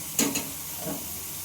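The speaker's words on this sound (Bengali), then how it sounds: "এবার পেঁয়াজটাকে একটু লাল লাল করে ভেজে নিতে হবে" Onion frying in a pan, a steady soft sizzle and hiss with a couple of brief louder crackles near the start, close and alone.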